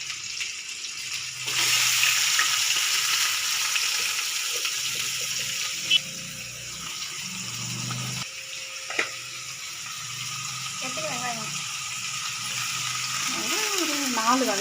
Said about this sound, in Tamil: ரெண்டாவது வந்து நம்ம வெங்காயம் சேர்த்துக்கிறோம்